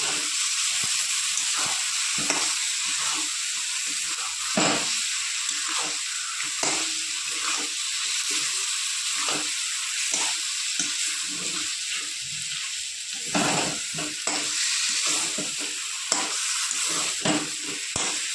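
Marinated chicken with spices frying in a pan, a loud continuous sizzle and hiss close by, broken by repeated scraping and stirring strokes.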